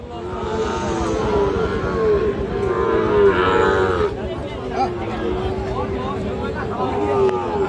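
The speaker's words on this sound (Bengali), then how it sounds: "আর এই যে সামনে দেখছেন যে প্রচুর চাহিদা সম্পন্ন শাহিওয়াল জাতের ষাঁড় বাছুর গরু" Sahiwal bull calves at a weekly rural cattle market in Ghoraghat, Dinajpur, with long, loud moos and lowing repeating over a crowded background hum, heard under steady talk from a nearby man.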